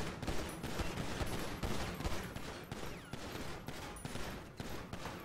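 Continuous rapid gunfire and explosions in GTA 5, dense and overlapping, like an intense firefight, loud throughout.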